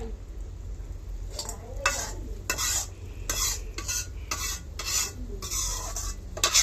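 Hilsa fish curry with vegetables cooks in a pan, giving a soft, steady sizzle broken by repeated scraping strokes of a spoon stirring against the metal.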